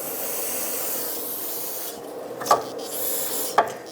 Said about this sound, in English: Clean up the splines of the axle too, as well as the ABS sensor hole if you removed the sensor.